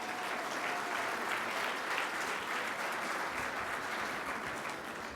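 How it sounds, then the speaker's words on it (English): Conference audience applauding, a steady wash of many hands clapping at moderate loudness that carries on for several seconds. "Can we give a round of applause for our announcer"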